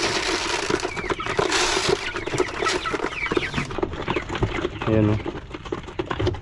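Farm chickens clucking and calling while pecking eagerly at feed, several birds close by in a busy flock, with someone talking over them.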